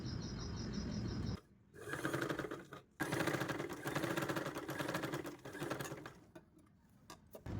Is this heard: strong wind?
no